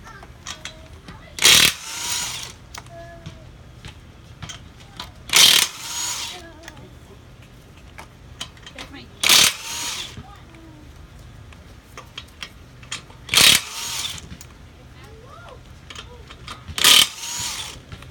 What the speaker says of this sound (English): today I will be using an impact gun and a 19mm socket